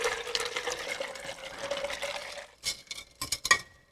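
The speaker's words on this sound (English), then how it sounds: "You're just going to pour that limeade right over the top of your ice." Homemade limeade poured over ice in a glass, a steady close liquid stream for about two and a half seconds, then ice cubes clinking and settling in short bursts.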